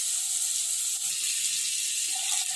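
Food sizzling steadily in a pan after a pinch of turmeric is added, a continuous hiss with no breaks and no talking.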